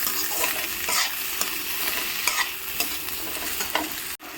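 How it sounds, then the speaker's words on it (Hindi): Tomatoes and onions fry together in a pan with a constant close sizzle and the scrape and clatter of stirring, cut off briefly near the end, with no talk. "अब हम डाल देंगे इसी पे टमाटर और टमाटर को भी हल्का सॉफ्ट होते तक के भून लेते हैं"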